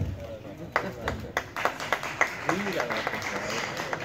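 Applause at the opening of a Scott Kelby photowalk in Iran, a short burst of scattered clapping with distinct individual claps, moderately close, while people talk over it.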